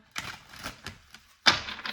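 A deck of cards being shuffled, a few soft riffling bursts with pauses between, the last one louder and sharper, close up with no talking.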